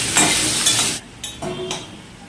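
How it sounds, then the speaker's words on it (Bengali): Mung dal frying in hot oil in a wok, a loud broadband sizzle with stirring scrapes that drops sharply partway through, then returns in softer bursts of frying hiss. "এতে দেবো মুগ ডাল। মুগ ডালটা ভাজা করে নামিয়ে নেব"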